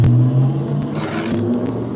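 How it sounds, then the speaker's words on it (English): A loud car roars past close by, its low engine drone and hum filling the moment before easing slightly, with a brief whir and scrape on top and no voices. "Sorry, loud car."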